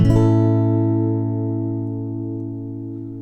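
An acoustic guitar chord strummed once across all strings, ringing out cleanly and slowly decaying with no talking over it.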